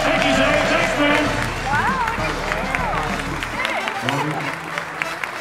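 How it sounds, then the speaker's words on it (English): An audience aboard the Norwegian Prima cruise ship applauds in a steady wash of clapping and crowd noise, with voices talking over it throughout. "It's an NCL applause!"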